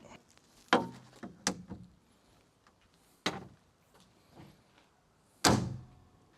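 A Land Rover Defender's rear door latch being handled, with several sharp metallic clacks and thunks at irregular intervals, close and otherwise quiet, the last one loudest.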